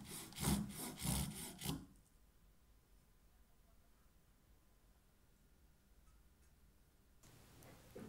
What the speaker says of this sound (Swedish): Spänn fast pinnen i en täljhäst och såga av.